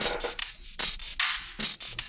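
Music time-stretched in Ableton Live's Tones warp mode comes out as harsh, grainy, hissing bursts. They cut on and off in a choppy, stuttering rhythm, with no voice.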